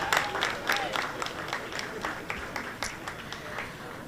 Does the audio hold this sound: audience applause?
yes